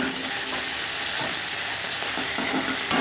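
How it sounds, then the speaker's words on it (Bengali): Steady, crackling sizzle of onions frying in a hot pan, loud and close, with a faint stir or scrape near the end. "যে পেঁয়াজটা আমি এরকম ভেজে নিয়ে আসছি"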